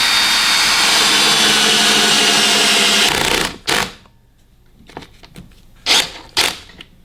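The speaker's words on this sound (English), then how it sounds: "So now we're going to start working our way through putting these screws" A power driver runs steadily for about three seconds as screws go into the legs of a reversible pilot seat for a Boston Whaler Montauk or Outrage, then stops, followed by a few short, sharp bursts.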